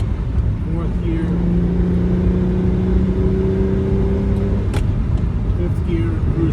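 Close, steady engine note from a 1974 Ferrari 246 GTS Dino accelerating in fourth gear on the road, a sustained humming drone that holds and rises gently, then shifts briefly near the end.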